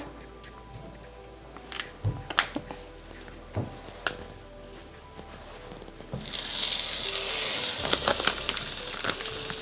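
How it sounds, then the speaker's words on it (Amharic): Table butter melting and sizzling in a heated pan while cooking tagliatelle in cream sauce; quiet clicks and taps at first, then a loud, steady hissing sizzle swells up close and continues to the end. "መጀመሪያ መጥበሻችንን እናግለናል። ከዛ የገበታ ቅቤ እናረጋለን።"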